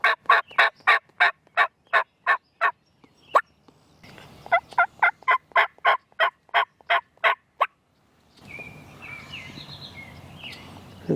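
Wild turkeys gobble in rapid rattling bursts during spring in New England, two long runs of loud calls, followed by the steady hiss of falling rain.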